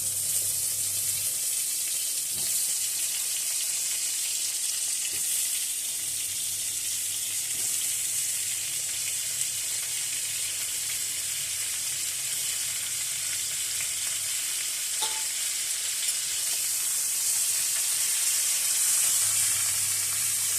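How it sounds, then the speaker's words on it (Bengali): Mango pieces fry in a pan of oil for a jaggery mango pickle, giving a continuous soft sizzle with faint stirring scrapes throughout. "আম বেশি শুকানোর দরকার নেই, একটু ভাজা ভাজা হলেই হয়ে যাবে।"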